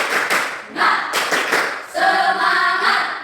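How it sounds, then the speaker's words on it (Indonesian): Classroom students clap together for a classmate after she answers correctly, a dense burst of hand claps starting, pausing briefly and swelling again, mixed with a few voices and a tonal cheer near the end. "silakan dulu anak-anak kami tepuk semangat untuk si Murni"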